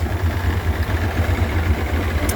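A Mercury 175hp EFI V6 oil-injected two-stroke outboard engine idling with a steady, low, throbbing rumble that holds constant throughout, close and fairly loud, with no talk.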